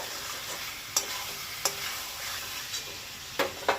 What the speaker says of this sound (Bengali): এবারে এই কষার সাথে চিংড়ি মাছটা যেমন ভালো করে কষাবো